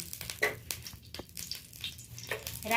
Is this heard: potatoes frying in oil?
yes